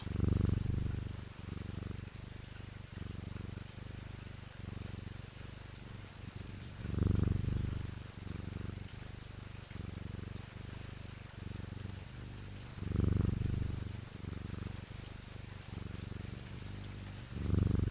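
Wooden cat creature purring in a video game, a low rhythmic rumbling purr looping steadily with louder swells every few seconds, soft and continuous with no talk.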